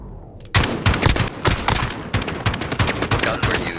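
M4 rifle fire in the video game Modern Warfare, loud rapid bursts of shots in an uneven rhythm, close and dominant, starting abruptly after a brief quieter moment.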